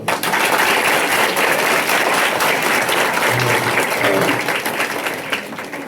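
A school audience at a government high school ceremony in Muchkur, where 25 dual desk benches were donated, breaks into loud, sustained applause, a dense wash of many hands clapping that carries on steadily before easing slightly at the end.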